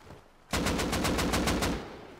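An AK rifle in the survival game Rust fires a loud, close automatic burst of about eight rapid, evenly spaced shots that cuts in sharply after a quiet moment and fades with a short tail.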